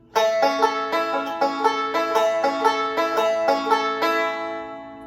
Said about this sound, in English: The second variation of the square roll is simply your thumb on the 3rd string